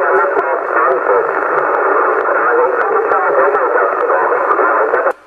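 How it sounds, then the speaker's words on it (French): CB radio on channel 27 in FM, a loud band of steady hiss and static with faint garbled voice fragments underneath, cutting off abruptly at the end. "vu le bruit, c'est de la FM"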